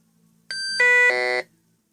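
A metal detector gives a short beeping tone that steps up in pitch, loud and clear against near silence, lasting about a second.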